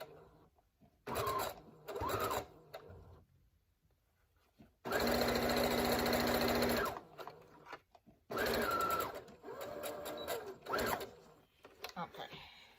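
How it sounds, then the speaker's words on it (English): A home sewing machine stitches fabric for a face mask in several bursts of fast, steady mechanical whirring, with quiet pauses between runs and faint clicks as the fabric is repositioned. "I lift my presser foot and I would pivot the fabric to continue"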